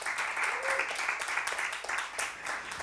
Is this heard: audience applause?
yes